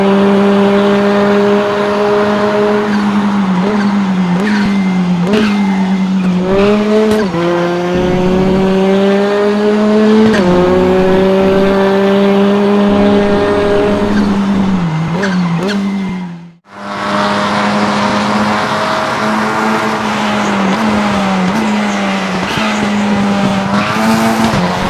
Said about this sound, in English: let's take a look at the sound of the cars